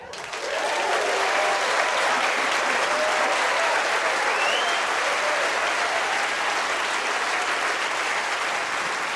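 A live music stage audience claps and cheers in a dense, loud, sustained burst of applause as a performer is welcomed on.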